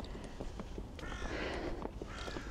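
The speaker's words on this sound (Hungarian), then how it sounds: "a naplementés varjak" Crows caw at sunset near the Olympiaberg in Munich, a few harsh calls rising over a soft, noisy outdoor background, fairly faint and distant, with no voices.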